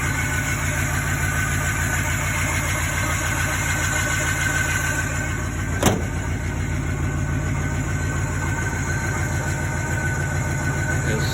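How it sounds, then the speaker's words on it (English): A 1946 Chevy slammed pro street hotrod with a 350 V8 and gear drive runs at a steady idle, a close, continuous low rumble with a faint whine on top and one brief click midway. "you can hear that little bit of a gear drive on it"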